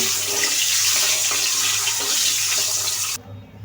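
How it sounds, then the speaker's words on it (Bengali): An egg fries in hot oil with turmeric, giving a loud, steady close-up sizzle that stops abruptly near the end. "ডিমটা ভালো করে ভেজে নেব।"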